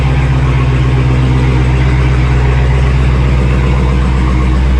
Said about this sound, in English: But it doesn't mean we can't rev it up